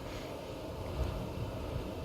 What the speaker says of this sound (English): Like right now, it's pretty windy.